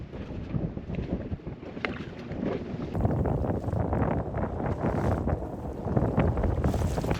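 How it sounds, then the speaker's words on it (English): Picking-up wind buffets a small inflatable fishing boat in Poole Harbour, a continuous loud rushing gust noise over the microphone that grows stronger midway, with low water and hull rumble beneath. "Right, well that wind's picked up a little bit."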